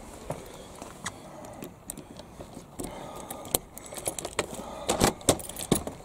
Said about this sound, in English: I'm getting the keys, I'm getting there.